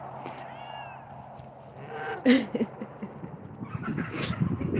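A cat meowing after being threatened by a small pet bird, with several drawn-out rising meows and a few sharper cries indoors at moderate loudness, mixed with faint background noise.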